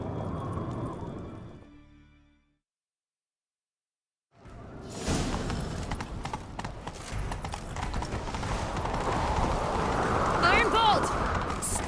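Rhythmic hoofbeats of a galloping horse with whooshing game effects in The Witcher 3: Wild Hunt, after a brief silence; a voice speaks at the start.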